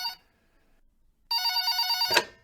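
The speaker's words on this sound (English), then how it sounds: "Would you just answer the phone, Zach" Telephone bell ringing in a comedy sketch: a short ring fragment, a pause, then one loud bright electronic ring that cuts off abruptly with a click, close and clear.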